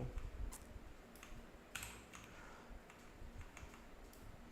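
Quiet, irregular taps on a computer keyboard, a few sharper clicks scattered across the stretch, heard alone against a faint steady background hum.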